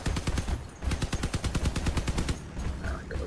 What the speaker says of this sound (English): Just watch how long these aspects can fire for.